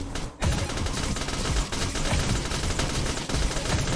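Dense sniper and machine-gun fire in an indie zombie shooter video game, a loud continuous fusillade of overlapping shots with no break over several seconds.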